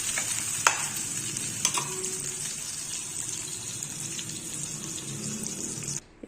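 Masala sizzles and is stirred in a hot pan for an idli stir-fry, a steady bright frying hiss broken by a few sharp scrapes and clinks of the spoon, close and alone.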